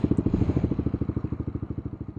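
A Honda CBR150R motorcycle engine pulses in a steady, rapid rhythm as it approaches, its mid-low throttle note loud and close with no talking over it.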